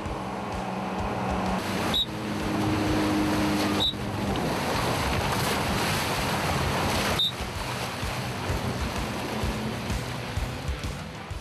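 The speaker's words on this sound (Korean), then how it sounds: "(119) 수상구조대의 보트가 먼 바다로 나간다." A lifeguard rescue boat from a beach water rescue unit heads out to sea, with a roaring motor and wind buffeting the microphone over steady surf, broken by a few sharp knocks.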